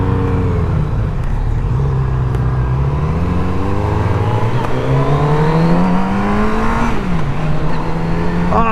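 Motorcycle engine while riding a Yamaha or Kawasaki demo bike, a loud continuous drone whose pitch climbs and dips as the rider accelerates and shifts, close and steady with wind noise underneath.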